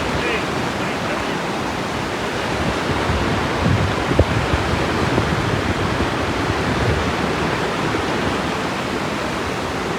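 Rushing water at Dudhiya waterfall, a picnic spot reached from Siliguri in the rainy season, roars as a steady, dense broadband wash with no pauses, loud and continuous throughout.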